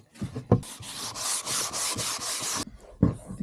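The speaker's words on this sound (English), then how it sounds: "I'm sanding a little" Reclaimed wood is sanded by hand with sandpaper in a quick series of about eight rasping back-and-forth strokes, close and fairly loud, with a few soft knocks before and after.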